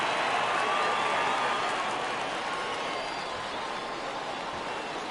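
A baseball stadium crowd keeps up a broad, steady roar and applause in the bottom of the ninth, fading slightly toward the end.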